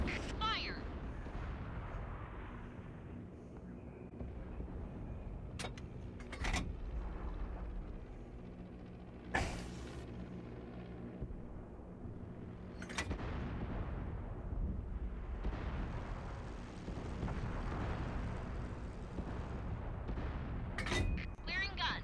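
Tank cannon fire from a Soviet tank in World of Tanks on Xbox One: several sharp, loud booming shots spaced seconds apart over a continuous rumbling engine and battle bed, with someone talking in between.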